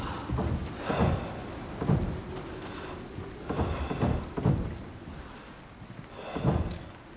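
A rain shower falls steadily outdoors in a wooded area, a continuous patter punctuated by heavier, pulsing bursts of drops striking nearby surfaces, with a low rumbling undertone.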